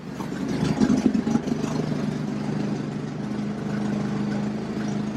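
A Jeep engine idles roughly with an unsteady, low rumbling drone that wavers and sags as if about to stall, heard close and alone without talk.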